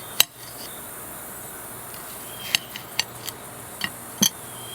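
A bread knife cutting through green tomatoes on a board, producing a few sharp isolated clicks and taps spaced irregularly over a quiet background.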